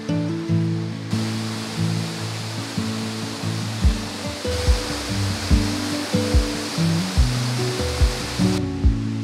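A waterfall in a green park with huge boulders roars as a steady broadband rush, with low rhythmic thumps and tones layered over the constant loud water noise.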